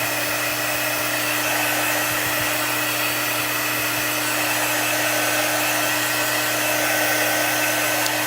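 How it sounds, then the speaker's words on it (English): A hair dryer blows steadily to dry chalk paste on a transfer, a constant close rushing whoosh with a low motor hum that runs unchanged throughout, without any talking. "Now we're going to dry it to make sure it's nice and dry."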